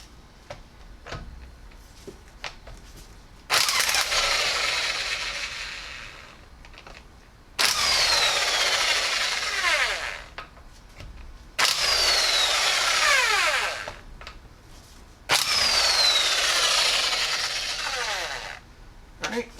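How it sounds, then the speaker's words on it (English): A pneumatic impact gun fitted with a 19mm socket zips lug nuts off a Scion xB wheel in four loud, sustained whirring bursts of several seconds each, separated by quieter pauses with small clicks. "now that we got the socket on the impact gun, this is actually a 19mm socket for the lug nuts"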